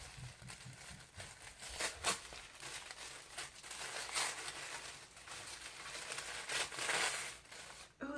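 Paper wrapping crinkles and rustles continuously as a gift package with a letter is unwrapped, close and moderately loud, with sharper crackling bursts scattered throughout.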